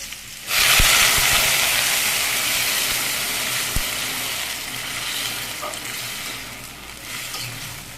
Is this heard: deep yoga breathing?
no